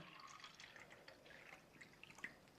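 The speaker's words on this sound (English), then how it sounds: "we're going to add some tap water to that little bit of tea that's there." Tap water trickles and splashes into a glass holding a little tea. It is a faint, uneven pouring with scattered drips, and a sudden louder splash comes at the end.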